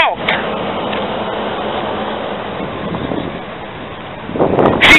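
Wind buffets the microphone outdoors on a street in Daytona Beach in a low continuous rumble, swelling louder near the end, with faint background noise around it.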